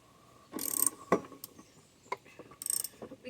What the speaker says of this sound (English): My socket wrench was going the wrong way.